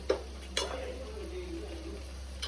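Food being stirred in a pan over a soft sizzle, with two sharp scrape-clinks of a spoon against the pan near the start, then a quieter steady frying hiss.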